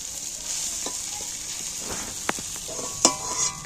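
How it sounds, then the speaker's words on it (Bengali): Fried prawns being lifted one by one out of a pan of hot oil, with a steady sizzle throughout and a few sharp clinks of a utensil against the pan near the end. "মাছগুলো আমার ভাজা হয়ে গেছে একটা একটা করে তুলে নিচ্ছি"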